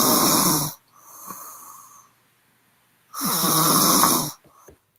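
Two loud, rasping snores from a woman about three seconds apart, each a harsh noisy inhale, with a softer wheezy breath trailing between them; no talking.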